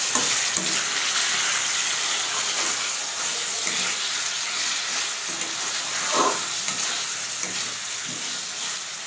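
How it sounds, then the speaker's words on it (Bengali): Bhetki fish curry hisses in a pan as water is poured in, a steady close wash of sizzling and rushing liquid with a few soft scrapes of stirring, no voices. "এবার এটাকে নাড়াচাড়া করে এর মধ্যে জল দিয়ে দিই"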